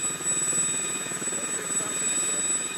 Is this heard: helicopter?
yes